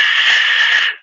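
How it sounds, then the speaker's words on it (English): A white noise test signal plays as one steady, loud hiss lasting about a second and then cutting off cleanly, with nothing else present. "White noise"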